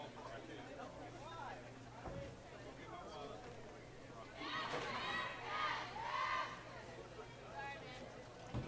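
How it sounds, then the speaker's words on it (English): Crowd chatter fills a college bowling tournament hall during bracket match play, a continuous babble of many voices with brief louder bursts of cheering and shouting midway. "the crowd has grown since we got here early this morning"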